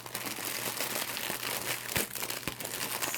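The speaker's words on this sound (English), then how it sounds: "excuse the ruffling or the rustling of plastic" Plastic crinkles and rustles close up while Christmas wood block candle centerpiece decorations are handled, a busy continuous crackle with a few sharper crunches.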